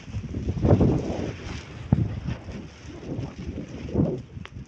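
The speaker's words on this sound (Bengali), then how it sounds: "প্রচন্ড বাতাস," Strong wind buffets the microphone in continuous low rumbling gusts, with a few sharp knocks and surges throughout.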